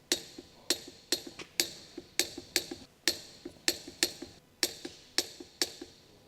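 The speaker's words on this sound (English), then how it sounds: "Using the large 19mm long socket with the torque wrench, torque the lug nuts" Torque wrench with a large 19mm long socket clicking on lug nuts of a Honda CR-V, a rapid run of sharp metallic ticks in uneven bursts, close and clear with no talk.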